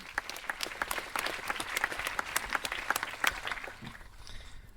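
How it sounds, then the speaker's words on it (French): Cinema audience at the Méliès in Montreuil applauding a translator, a moderate crowd's clapping with distinct individual claps standing out, fading slightly at the end. "Florent Delany, qu'on peut applaudir aussi."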